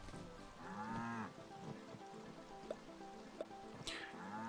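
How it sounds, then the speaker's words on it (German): A cow in the farming video game Staxel lets out a low, drawn-out moo. Quieter moos and soft dripping sounds follow, all fairly faint. "Diese blöde Kuh ist schon wieder hier drüben."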